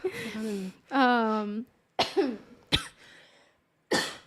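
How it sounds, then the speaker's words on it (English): Several harsh coughing bursts, close and loud, separated by short pauses, with a raspy throat-clearing sound among them. "because of this coughing that is happening"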